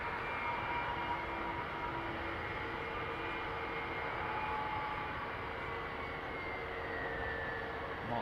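Loud, continuous roar of jet airliner engines with a steady whine in fog at London Heathrow Airport, sustained without pause from start to finish.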